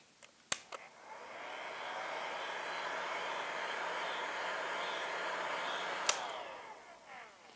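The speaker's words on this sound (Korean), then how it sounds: "드라이기로 대체하셔도 됩니다" A hair dryer warms a Christmas candle wreath mold with a steady whooshing blow lasting several seconds, with sharp clicks as it switches on and off.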